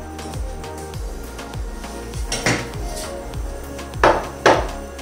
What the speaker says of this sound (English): couple of green chilies, quickly slit